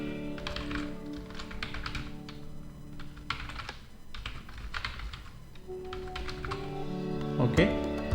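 Typing an email address on a computer keyboard: a steady run of light, quick key clicks in short bursts, heard close and fairly quiet with a person talking over it.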